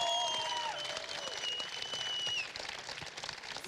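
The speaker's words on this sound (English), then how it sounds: "I think you should give him a round of applause." Applause from an esports crowd at a League of Legends match, fairly faint, fading after a couple of seconds, with tonal sounds sliding in the background.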